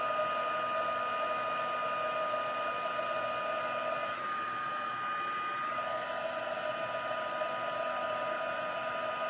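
A heat tool blows hot air to melt embossing powder on a card, giving a steady, moderately quiet whirring hum that continues throughout.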